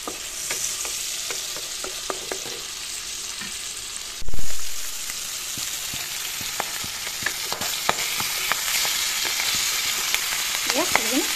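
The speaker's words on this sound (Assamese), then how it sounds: "এতিয়া 2 মিনিট 3 মিনিট সময় এনেদৰে কম জুইতে মই মাছখিনি ভাজি দি দিম" Fish frying in a pan over a low gas flame, a soft continuous hiss with scattered small crackles and taps throughout and one dull thump partway through.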